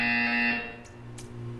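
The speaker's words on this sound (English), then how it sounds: "You will hear a buzzer." In the Portal 2 video game, a loud electronic buzzer blares for about half a second and then cuts off, leaving a low steady hum and faint clicks.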